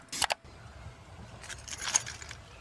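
Keys jingle in the horror game VILE: Exhumed, a sharp metallic rattle at the start followed by a quieter cluster of clinks a second later, close and clear with no voices.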